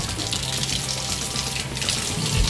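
Tap water runs steadily into a sink as a spoon is rinsed under the stream, a close, continuous splashing rush with no voices.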